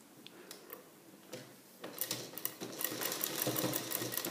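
A sewing machine stitches piping onto a neckline: a few isolated ticks give way to a close, steady, rapid mechanical chatter that gets louder as the stitching runs, with no voices over it.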